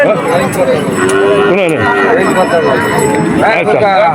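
Cattle at a busy calf market lowing in several long, loud moos close by, over constant crowd chatter and someone talking.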